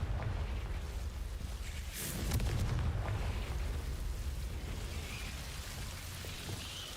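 A Confringo blast spell fired in Hogwarts Legacy lands as a loud, rumbling explosive burst, with a brighter crack about two seconds in and a dense roaring wash that carries on afterward.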